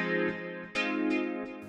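An Ableton electric piano from the Still Jazz Clean rack plays dry, without effects, striking three clean, mellow chords in a row, each ringing briefly and fading, quiet and alone.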